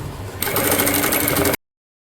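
A tailor's sewing machine runs a continuous seam on a cotton A-line kurti: a loud, dense mechanical whir that starts abruptly after a brief quiet, lasts about a second, then cuts off sharply.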